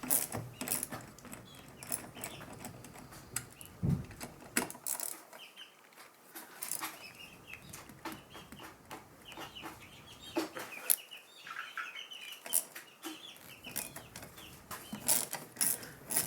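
Handlebar riser bolts on a 2019 Can-Am F3 Limited are loosened with a 9/32 Allen bit, giving short bursts of sharp ratcheting clicks up close while chickens cluck in the background.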